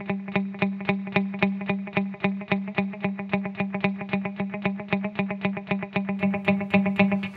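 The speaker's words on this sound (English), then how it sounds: "to get a dotted 8 echo, and you can achieve that by playing your normal 8s" Electric guitar through a Harley Benton Digital Delay pedal set to a dotted-eighth echo, a fast steady stream of repeated plucked notes with echoes filling the gaps between picks, loud and continuous with distortion and chorus-like shimmer.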